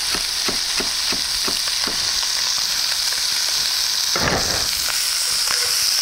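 Cajun trinity of chopped celery, onion and green pepper frying in a pan, a steady loud sizzle throughout with light regular stirring taps early on and a brief scrape near the end.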